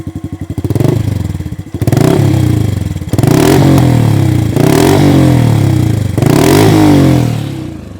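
A Honda NBC110 Super Cub engine revs repeatedly up and down close by, its exhaust loud and throaty with a rapid pulsing rumble between throttle pulls.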